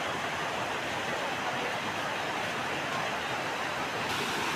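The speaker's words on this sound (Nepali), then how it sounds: "यो चाहिँ सर्दु खोला यस्तो मजाले सुसाइराखेको छ" Sardu river rushing steadily, a dense broadband roar of flowing water that stays even and close throughout with no other sounds standing out.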